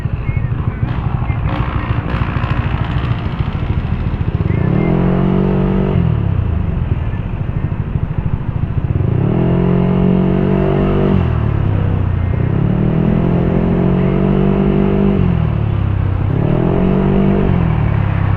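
Engine of a Honda PCX160 scooter riding through road traffic with cars and motorcycles, revving up and easing off in repeated surges over a steady close rumble of traffic.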